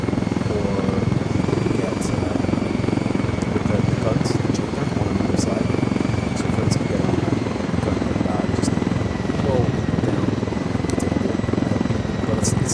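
Heavy helicopter in the video game Ghost Recon Wildlands, a dense, steady rotor drone with a broad thrumming roar, loud and continuous throughout, with someone talking over it the whole time.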